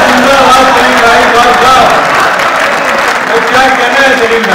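Applause from an audience at a poetry recital, a steady wash of clapping lasting throughout, with a voice speaking over it.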